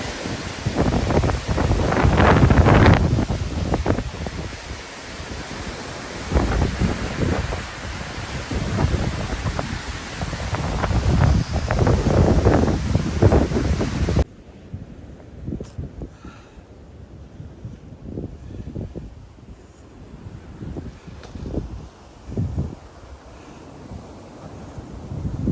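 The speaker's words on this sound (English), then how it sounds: "The wind just sounds so terrible." High mountain winds on the Pacific Crest Trail near Idyllwild roar and buffet the microphone in loud, gusting surges, then drop to a quieter, steadier rush partway through, with no speech.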